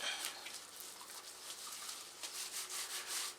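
A wax-soaked cloth rubs back and forth over a leather and Kydex hybrid knife sheath, giving a soft, quiet, continuous scuffing.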